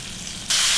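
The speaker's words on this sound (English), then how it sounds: "When you're laying fish into a hot oil pan, John, you need to make sure you lay it away" Snapper fillet laid into a pan of hot oil, a quiet hiss suddenly bursting into loud, steady, close sizzling halfway through.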